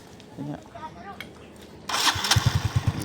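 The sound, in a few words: motorcycle engine starting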